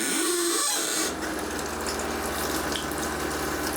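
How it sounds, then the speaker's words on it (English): Water gushes from an RV sink faucet, a steady close hiss that starts after a brief mechanical tone and keeps running evenly. "Okay, we're getting hot water"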